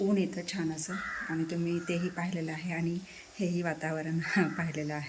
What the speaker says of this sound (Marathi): तर कावळा तर आधीच ओरडतो,